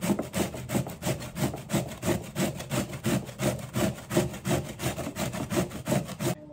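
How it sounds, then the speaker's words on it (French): Raw cauliflower scraped on a hand grater into a bowl, a steady rhythmic back-and-forth rasping of quick, even strokes heard close and alone throughout. "ce que je vais faire, c'est que j'ai mon bol, j'ai mon grattoir et je vais tout simplement"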